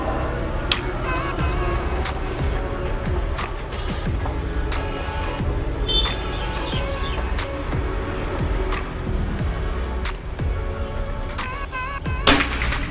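One sharp PCP air rifle shot from a full-CNC Pajero Gun Generation 5 rifle rings out near the end, close and abrupt, against a constant low background rumble.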